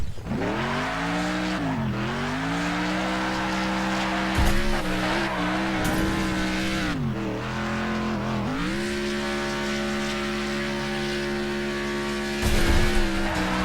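Race cars in the Next Car Game racing video game rev loudly and continuously, with engine pitch dipping and climbing at each gear change, while tires squeal and skid in bursts; no one talks.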